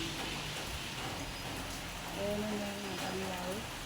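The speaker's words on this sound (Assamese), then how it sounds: "কালি ৰাতিৰ পৰা বৰষুণে পৰি আছে" Steady rain falls outdoors after a night-long downpour, a soft even hiss throughout, with a voice briefly heard over it near the end.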